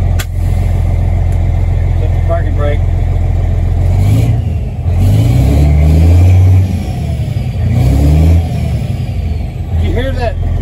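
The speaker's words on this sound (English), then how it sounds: "you hear that turbo spool up?" An old International cab-over truck engine revs with a loud, close low rumble, its turbo spooling up in repeated rising surges while people talk over it.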